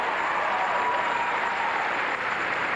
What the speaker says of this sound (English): Listen to the support from the crowd the Soviet gymnasts are getting.